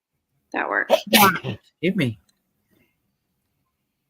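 A single sharp sneeze bursts out between stretches of casual talk from one nearby person, with brief speech before and after it.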